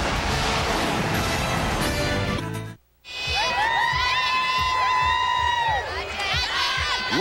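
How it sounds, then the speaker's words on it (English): LSU fans at a 2003 football game against MSU, standing and cheering: loud crowd roar with whoops and shouts, cut by a brief silence, then continuing cheers with a sustained whistle or horn-like tone above the noise. "They're the ones that are standing and cheering"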